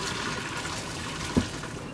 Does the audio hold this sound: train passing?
no